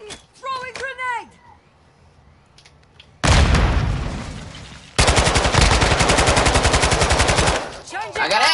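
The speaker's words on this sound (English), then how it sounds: "Throwing grenade." Loud gunfire bursts in a PS4 military shooter game, a heavy blast followed by a long rapid machine-gun volley, with players talking over comms before and after.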